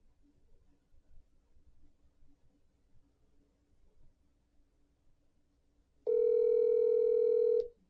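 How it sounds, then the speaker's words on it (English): A telephone dial tone sounds clearly for about a second and a half after several seconds of faint room noise and soft clicks, as a call is placed to a phone ordering agent. "let's go to our phone agent and let's call this number."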